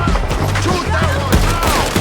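Rapid gunfire in a video game shootout, a dense burst of overlapping shots over a continuous loud din, with shouted voices mixed in.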